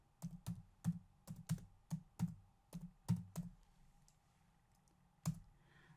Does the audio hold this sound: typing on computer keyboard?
yes